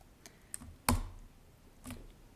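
Keyboard keys clicking in a few light, separate taps during a cut-and-paste action, one sharper keystroke standing out among faint scattered clicks in a quiet room.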